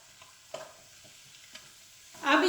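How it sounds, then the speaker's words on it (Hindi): A spoon scrapes and stirs spiced samosa filling in a pan, giving a few soft knocks before a louder burst of sizzling near the end. "अब इसको अच्छी तरह मिक्स करेंगे"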